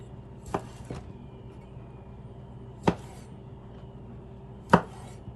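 Cherry tomatoes being sliced in half on a cutting board, three separate sharp knife chops spaced a couple of seconds apart over a quiet kitchen background, with no talk.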